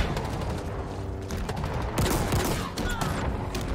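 Artillery strike explosions in the Halo Infinite video game, with a dense wash of gunfire and rumble breaking into two heavy blasts late on, loud and close.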